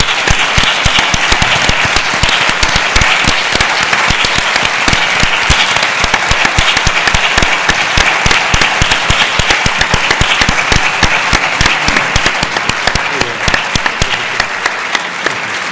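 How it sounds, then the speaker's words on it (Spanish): A conference audience gives a long round of applause, dense and steady clapping that fills the room, then thins slightly toward the end. "y un aplauso a ellos"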